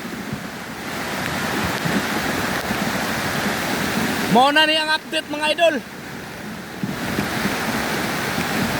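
Floodwater rushing through a collapsed dike, a loud, continuous broadband roar that fills the whole clip, while someone speaks briefly near the middle over the churning water.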